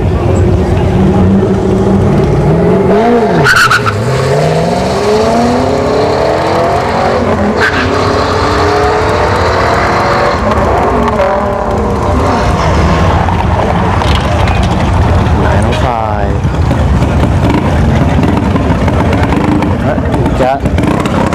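At a drag strip test-and-tune event, a 4th gen Camaro's engine revs and roars at close range, rising and falling with gear changes. A loud announcer's voice talks over the engine throughout.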